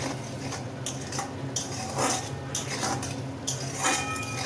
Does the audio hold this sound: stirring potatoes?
yes